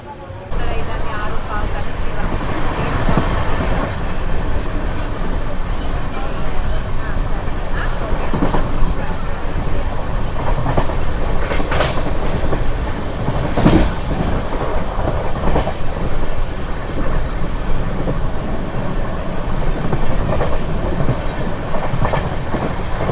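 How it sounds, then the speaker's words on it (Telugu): An LHB superfast express from Karimnagar toward Tirupati rolls along just after departure, giving a loud, continuous rumble with steady clickety-clack of wheels over rail joints heard from on board throughout. "1 minute లేట్గా వచ్చేసి మనకు కరీంనగర్ నుంచి అయితే బయలుదేరింది మన ట్రైన్."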